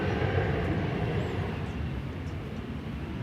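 An American Airlines Airbus A321 taking off at DFW Airport, a steady, loud jet roar rumbling continuously without talk.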